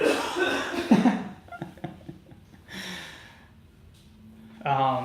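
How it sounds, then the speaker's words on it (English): A few rough coughs and throat sounds up close, followed by breathy gasps and a short voiced sound at the end. "Coughing my head off."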